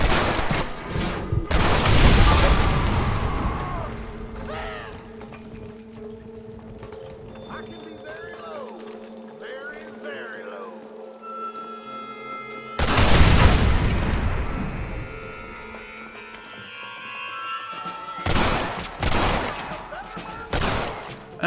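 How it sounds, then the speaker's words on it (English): Gunfire in the Western video game Red Dead Redemption, with loud bursts of rapid shots near the start and again around the middle, among hoofbeats and rumbling game ambience, with voices talking between the volleys. "Stop shooting!"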